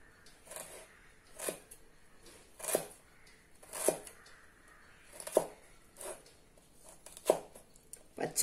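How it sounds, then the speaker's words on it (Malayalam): A knife cuts a piece of ginger on a board for a vegetable salad, giving about eight soft, evenly spaced chopping strokes roughly a second apart, close by and with no talking. "ഒരു കഷ്ണം ഇഞ്ചിയും അരിയണം."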